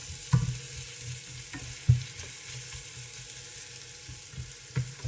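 Eggs stirred and frying in butter in a pan over medium heat, a steady sizzle broken by a few sharp utensil scrapes and knocks, close and alone without voices.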